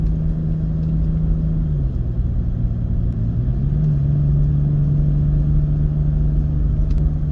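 A pickup truck towing a short trailer on a winding road holds a steady, loud engine drone, which drops in pitch and then settles back as it downshifts, with no talk.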